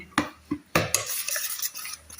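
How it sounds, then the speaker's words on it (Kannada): Ground chana, ginger and green chili paste being stirred into dosa batter with a metal spoon, several sharp scraping clinks against the vessel followed by wet, sloppy mixing. "ಹಾಕಿ ಚೆನ್ನಾಗಿ ಇದಕ್ಕೆ ಮಿಕ್ಸ್ ಮಾಡಬೇಕು"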